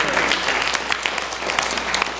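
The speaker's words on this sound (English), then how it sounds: "Now give the Lord a praise clap in this house like you mean it." Church congregation giving a praise clap during a Sunday sermon, dense rapid hand clapping from many people filling the room at a steady loud level for the whole moment.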